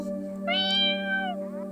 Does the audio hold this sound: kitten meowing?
yes